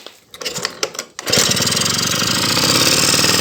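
A Honda Dio scooter with a flooding carburetor is started: a few rattling cranking attempts give way to the small engine catching and running steadily, loud and close, with a buzzy idle.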